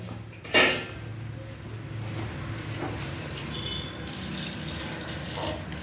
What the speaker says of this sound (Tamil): தண்ணி ஊற்றிக்கலாம் தேவையான அளவு ஊற்றிக்கலாம்